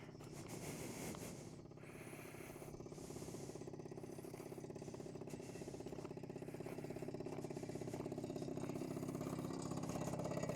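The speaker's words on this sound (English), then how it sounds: "I have to let the engine idle" A SYM Jet2 50 scooter idles nearby with a steady, even low putter and a faint rattle. The sound runs unbroken with no voices.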